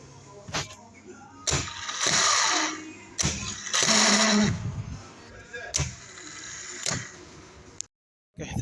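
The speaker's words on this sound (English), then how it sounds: "this starter is making noise" A faulty car starter motor whirs and grinds in bursts of a second or so, loud and close, separated by short pauses, with a person talking between the runs.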